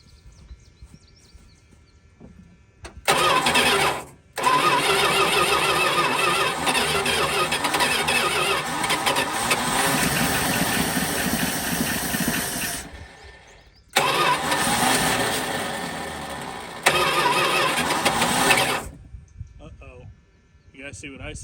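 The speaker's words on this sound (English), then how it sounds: "if I hold the key in the right spot, it'll stay running without engaging the starter" An abandoned 1979 Chrysler Cordoba engine cranks and catches, running loud and rough for about ten seconds, dropping out, then firing again for several more seconds before dying.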